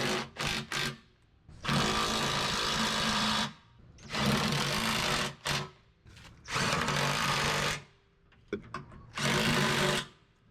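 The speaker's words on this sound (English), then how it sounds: "We're just going to tighten it down with my smaller impact" A small impact wrench snugs down the nuts and bolts while a rubber pin box is installed on an RV hitch. It gives four loud, sustained buzzing bursts of one to two seconds each, with short gaps and a few quick blips between them.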